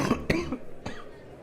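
Two or three quick coughs, close by, with a short throaty sound between them, fading into quiet room noise.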